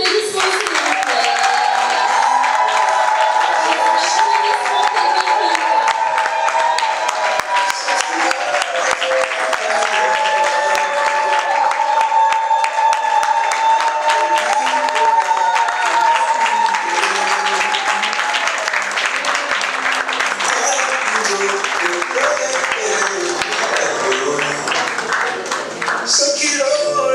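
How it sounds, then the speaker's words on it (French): Wedding guests applaud the bride at an official wedding ceremony, with continuous dense clapping that runs throughout and is layered with voices and ululating or singing from the crowd. "sous vos applaudissements s'il vous plaît"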